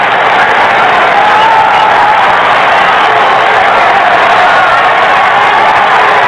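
A ballpark crowd roars steadily with cheering and applause as fans rise to their feet before a full-count pitch with the bases loaded in a Mets–Padres game, a loud, dense, continuous wash of many voices.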